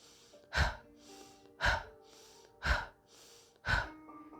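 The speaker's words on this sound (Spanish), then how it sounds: "voy a hacerlo con la respiración" Four forceful breaths pushed out through the mouth to release tension, spaced about a second apart, each a short, close, breathy rush with quiet pauses between and no talk.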